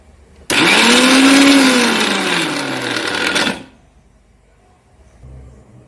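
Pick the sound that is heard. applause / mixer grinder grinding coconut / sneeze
mixer grinder grinding coconut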